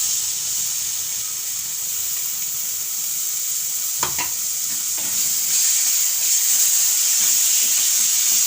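Sweet coconut milk mixture with semolina being stirred in a pan over very low heat, a steady soft sizzle and hiss with a few scraping strokes of the spoon, close and continuous.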